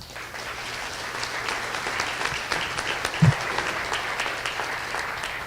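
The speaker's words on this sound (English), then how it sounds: "Please give a round of applause to our community station sponsors." Steady applause from an audience at an awards banquet, honoring community station sponsors; moderate, continuous clapping with one brief low thump partway through.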